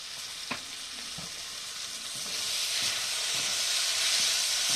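Chicken frying in oil with sugar, being stirred: a broad, steady hiss of frying that swells louder toward the end, with a few faint taps of the spatula, close and continuous.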